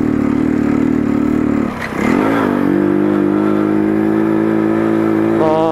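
Motorcycle engine climbing a mountain road, a steady loud drone that dips briefly near two seconds, then pulls back up and holds a strained, even note.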